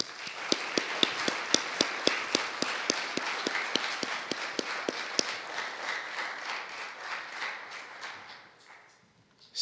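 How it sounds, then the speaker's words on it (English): An audience applauds at an Eagle Scout court of honor, a sharp rhythmic rally of claps that soon blurs into a steady wash of many hands. It fades out near the end. "Let's give them one more round of applause"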